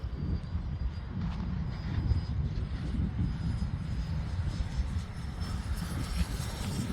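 A large-scale RC F-15 jet model with a 90mm ducted fan roars steadily overhead during a flying pass, a continuous loud outdoor whine with a faint high tone, with no talking.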